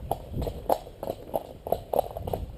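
A small horse or pony walks along, its hooves striking in a steady, clear clip-clop rhythm of about two beats per second, close by with no talk over it.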